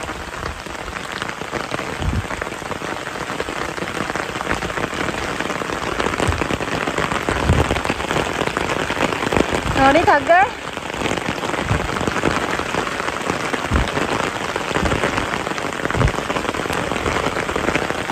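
Heavy rain pours steadily on surfaces in a village, a dense continuous hiss of drops close by, with a brief voice speaking partway through.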